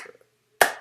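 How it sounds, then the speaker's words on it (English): A single sharp hand clap rings out loud and close after a brief stretch of near silence, preceded by a faint trace of voice. "Clap your hand. Clap your hand. Clap your hand."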